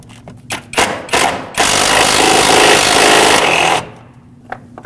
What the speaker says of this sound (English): Use a 10mm socket with an extension to get this out of here.